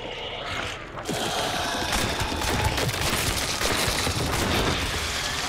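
Rapid gunfire in the video game Hunt: Showdown as a player shoots at the boss. A dense, loud burst of shots begins after a brief quieter moment and keeps going to the end.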